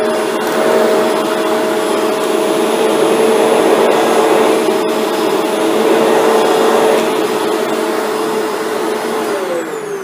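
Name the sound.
Shark vacuum cleaner running with brush roll off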